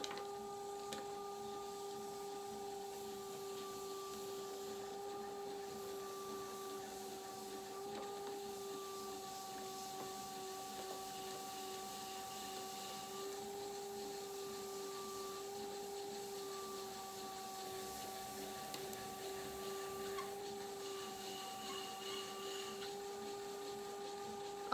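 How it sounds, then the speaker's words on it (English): Clay bowl being trimmed on a spinning pottery wheel, a steady motor whine with a continuous soft scraping hiss, quiet and unbroken. "just brace your hands together, drape them over the pot, and trim away"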